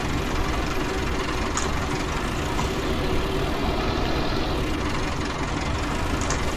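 Steady, loud low rumble of a tractor engine ploughing up a grass field, running close and continuously with a knocking diesel throb and no talk over it.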